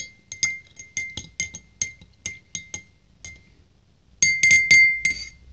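A spoon stirs a soap mixture inside a glass container, making a series of bright, close clinks against the glass, evenly spaced, then a quicker, louder burst of rattling taps at the end, with no speech.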